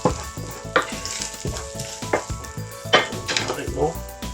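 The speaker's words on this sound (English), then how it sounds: "when that bacon's got a fair bit of colour to it, that's when we're going to add in some breadcrumbs" Bacon and breadcrumbs fry in a pan for an ultimate macaroni cheese. A spoon scrapes and clatters in repeated stirring strokes over a steady sizzle, close and fairly loud.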